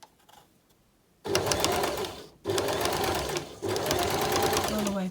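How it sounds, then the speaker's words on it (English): A sewing machine stitches a seam on rouleau loops in three bursts of rapid, even needle clatter. There are brief pauses between the runs and a little quiet handling before the first run. "I'll just go back and forth and then stitch all the way along there, keeping the seam allowance correct"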